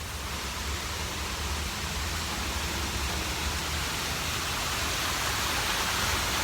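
A waterfall at the Niles Veterans Memorial rushes in a steady, broad roar of falling water, continuous and close with no voices over it.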